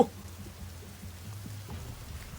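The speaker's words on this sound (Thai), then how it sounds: "ดูฝนตกดิ" Rain falls in a video game scene, a steady soft patter with low rumbling ambience, heard alone and fairly quiet for a couple of seconds.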